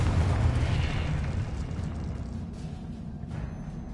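A Confringo spell explosion in the video game Hogwarts Legacy, a loud rumbling blast that starts at full strength and slowly fades over several seconds, heard alone without talk.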